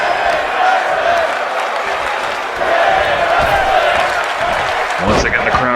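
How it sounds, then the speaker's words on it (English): A loud wrestling arena crowd chants rhythmically for women's wrestling at a live independent show, a dense wall of voices with cheers swelling and a sharp whoop near the end, under a commentator's voice. "Once again, the crowd chanting for women's wrestling."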